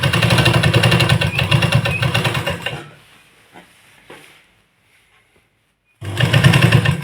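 A sewing machine stitches a seam on pieces of an old jacket being made into a dog's warm suit, running fast and steady up close for about three seconds, stopping, then starting again.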